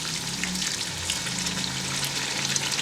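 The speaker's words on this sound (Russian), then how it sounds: "Добавляю воду, чуть-чуть совсем," A small splash of boiling water poured into sizzling plov with meat and carrots in a pot sets off a steady, loud hiss of frying that holds for about three seconds, with no talking.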